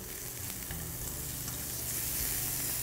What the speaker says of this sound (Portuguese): Deixa a manteiguinha derreter com a cebola aqui